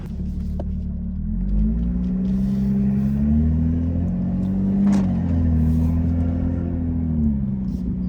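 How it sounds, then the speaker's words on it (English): A car with a Borla exhaust and VRS downpipe idles with a deep, throaty exhaust rumble, steady and close, rising briefly in a light rev before settling back. "how great this car sounds now that the Borla exhaust and VRS downpipe are in"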